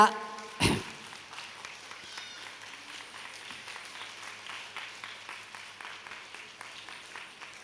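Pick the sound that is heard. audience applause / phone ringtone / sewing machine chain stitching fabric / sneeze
audience applause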